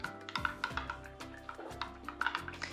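A spoon stirs butter and brown sugar into rum coffee in a cup, producing repeated light clinks and scraping strokes in a steady rhythm, close and fairly quiet with no talking.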